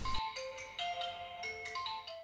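A smartphone rings when triggered by the Find My Phone feature of a Fossil Q Explorist Gen 3 smartwatch: a melodic electronic ringtone of quick repeating notes, moderately loud and with no talk over it.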